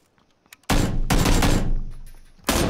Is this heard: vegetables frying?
no